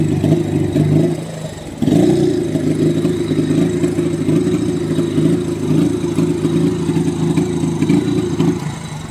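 A Benelli 150i motorcycle with a faulty TPS sensor and poor pickup runs with a loud, rough engine hum. There is a brief dip, then the revs are held for a sustained, labouring drone with no voices over it.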